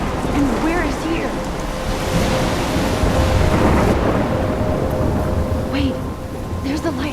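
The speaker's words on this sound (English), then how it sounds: "I'm trapped in a storm?" A video game thunderstorm: a steady, loud wash of heavy rain and rumbling thunder fills the scene continuously, dense and close, with no clear break.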